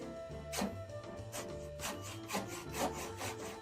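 A hand saw cuts into a wooden board in a garage, with steady, close back-and-forth rasping strokes at an even rhythm.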